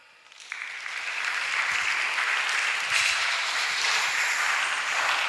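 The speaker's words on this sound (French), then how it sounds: "On acclame." Applause from a church congregation at a worship gathering, rising quickly from quiet into sustained, dense clapping that holds steady for several seconds.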